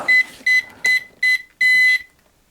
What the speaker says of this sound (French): On attend le bip